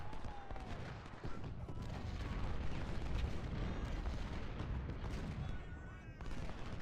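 Musket volleys crackle in Ultimate General: Civil War, a dense, ragged rattle of massed fire with booming thuds underneath, rolling on steadily for several seconds at a moderate distance.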